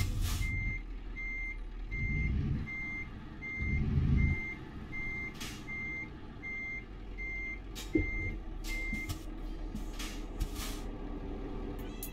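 A heavy truck reverses into a parking space at a convenience store in Euro Truck Simulator 2, its reversing alarm pulsing in a steady, evenly spaced series of beeps over low engine rumble and occasional air-brake hisses.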